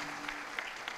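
Faint audience applause at a Marathi kirtan for the tabla, pakhawaj players and singers, a soft steady patter of clapping heard at a distance.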